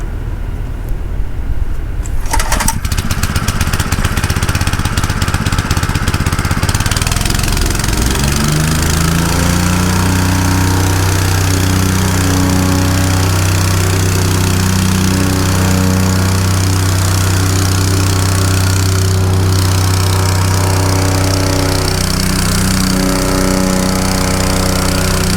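A Honda GX160 small petrol engine is pulled to life and then runs steadily at a close, loud, chugging idle for the rest of the stretch, with no voices.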